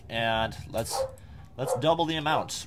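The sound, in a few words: dog barking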